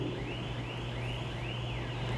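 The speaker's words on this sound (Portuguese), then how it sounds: "Um alarme aí, amados, eu não sei de quem é, do outro lado da rua." A car alarm across the street wails in repeating rising sweeps, about two per second, faint and distant over a low steady hum.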